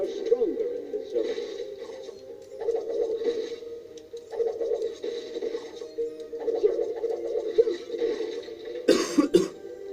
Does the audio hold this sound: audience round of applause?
no